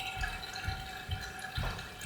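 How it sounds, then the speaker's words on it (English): Water from canned tomato sauce drains through a kitchen strainer, giving a steady close trickle with soft splashes and drips pulsing roughly every half second. "that's a lot of water coming out of there"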